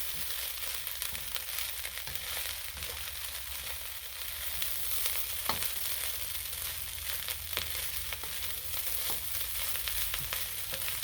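Spam fried rice sizzling in a frying pan as a spatula stirs and scrapes the edges, a steady crackling fry broken by repeated scraping strokes, close and continuous with no talking.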